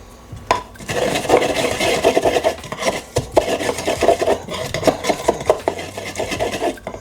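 Adobo seasoning is rubbed by hand into a raw pork shoulder for Puerto Rican pernil, making close, loud rasping and scrubbing strokes in an irregular rhythm with no voices.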